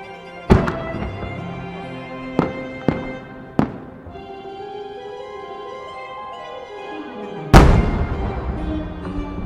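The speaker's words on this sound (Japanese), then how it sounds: "作者の元祖菊型花火の妙技をご覧ください" Chrysanthemum-type triple-core fireworks shells burst at an autumn festival at Twin Ring Motegi in Japan. Several sharp, loud booms come at uneven intervals, each followed by a long echoing tail, with a final heavy blast near the end.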